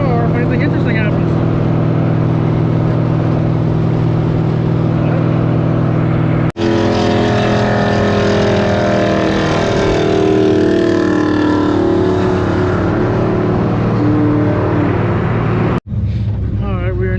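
A loud car roars steadily with heavy wind buffeting while driving to a Cars and Coffee meet, the engine note shifting midway, and someone talks over the noise.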